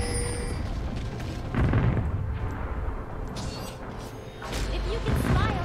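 A turret destroyed during an URF match in League of Legends: several booming, blast-like impacts and mechanical game effects over a few seconds, with speech heard alongside.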